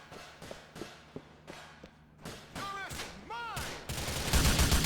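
Rifle fire in Grand Theft Auto IV, a string of sharp single shots at irregular intervals, then a denser rapid burst that grows louder toward the end, with running footsteps and warbling game sounds in between.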